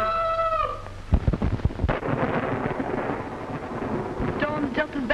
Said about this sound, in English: Storm's just as bad as ever, isn't it? Worse.